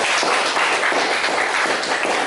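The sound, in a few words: applause for a student's presentation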